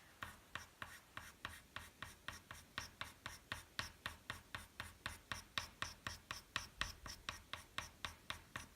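Chalk pastel drawn across paper in long strokes makes a quiet, steady rhythmic scratching, roughly three rasping strokes per second repeating evenly and close up, with no talking.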